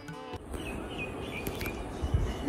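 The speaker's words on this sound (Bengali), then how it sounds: "বারান্দায় দাঁড়ালে সামনের জঙ্গলের গাছগুলো থেকে শোনা যায় অবিরাম পাখিদের কিচিরমিচির" Common birds chirp steadily from forest trees in front of a veranda at a coastal tourist lodge in Bakkhali, a mix of small near and far tweets over a soft outdoor hum.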